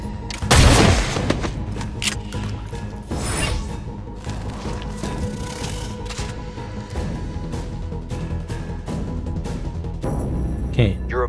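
Gunfire in XCOM: Chimera Squad, a loud burst near the start and another around three seconds, over a steady game soundscape with a later shot near the end.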